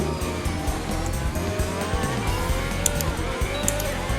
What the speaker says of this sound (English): My tires are already starting to slide